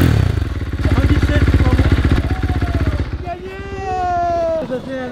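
A 125 cc motorcycle engine revs hard during a roadworthiness noise-level check, a loud, rapid throbbing drone for about three seconds before dropping away, followed by whining tonal sounds.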